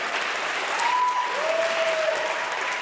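A debate audience breaks into sustained, dense applause that stays loud and even throughout, with a short whistled note rising above the clapping midway.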